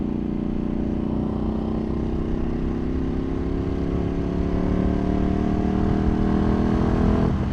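A tuned Ducati Panigale V2 ridden on the street sends out a loud, continuous engine drone whose pitch climbs gradually as it pulls, heard close with no talking.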